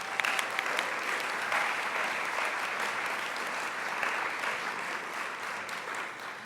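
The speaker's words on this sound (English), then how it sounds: "give a round of applause to our subcommittee members" Steady, sustained audience applause at a student symposium honouring subcommittee members, an even wash of many hands clapping throughout with no break.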